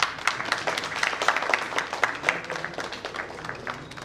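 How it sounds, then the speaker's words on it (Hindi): An audience claps through the inauguration of a stage play, a dense run of scattered hand claps that swells and eases in waves at moderate loudness. "तालियां बजती रहे।"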